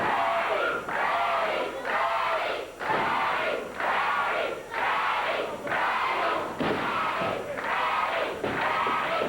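Wrestling arena crowd at a Memphis championship wrestling show chanting in loud rhythmic bursts, roughly one surge per second, a full house roaring in unison.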